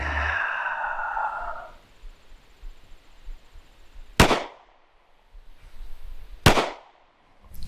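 Two sharp, loud pistol shots a couple of seconds apart, fired one-handed with the dominant hand during a dot torture accuracy drill at a shooting range, each cracking then decaying, with quiet range ambience between.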